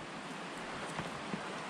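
A creek in the Arizona backcountry along the Cocodona 250 footrace route: flowing water makes a steady, close, even rushing wash with no voices.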